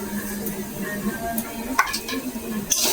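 Grated coconut and sugar stirred in a hot pan for a sweet filling, a soft close sizzle with scraping spatula strokes and a few light taps against the pan.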